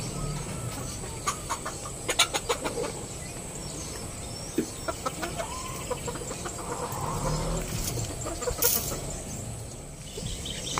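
Young stag rooster clucking in short bursts, a farm bird heard at moderate distance, its calls scattered across the stretch over low background noise.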